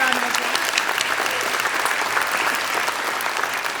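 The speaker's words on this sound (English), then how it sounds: "we're going to give you another round of applause" A crowd applauds at a university medal ceremony, a full, even roar of many hands clapping that fills the space and holds steady throughout without letting up.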